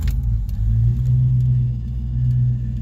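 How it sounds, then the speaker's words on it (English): A 1969 Ford Mustang Mach 1 V8 fires up and settles into a loud, steady low rumbling idle, close by, with a brief rise in revs early on and no talking. "Go ahead and let's fire up the car here."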